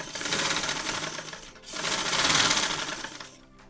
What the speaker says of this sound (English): So I will start by sewing.